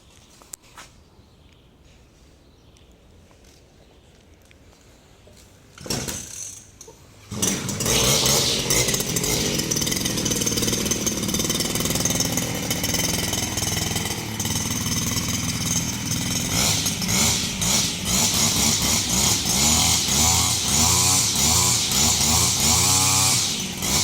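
A grass trimmer engine in a morning grass-cutting session: quiet at first, a brief pull-start burst, then the motor catches and runs loud and buzzing nonstop, its pitch rising and falling as it cuts grass nearby.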